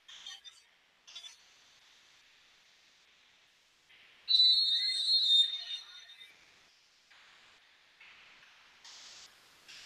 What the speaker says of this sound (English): Donovan Peoples-Jones and whistles. Believe this will be a false start on the Gators.